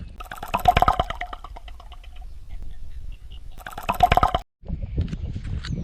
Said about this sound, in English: It's got a really good splash to it.